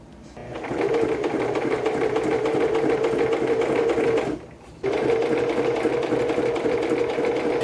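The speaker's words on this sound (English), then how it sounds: "I normally set my sewing machine to 2 or 3 depending on the fabric that I'm using." A sewing machine runs a straight stitch through thick fabric for a cosplay headband, a loud steady whir that stops briefly near the middle and then resumes at the same even pace, with no talking.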